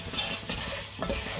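Onions sizzling and frying in a pan for a five-vegetable sauté with smoked trout, with a utensil stirring through them in short scraping strokes over a steady hiss.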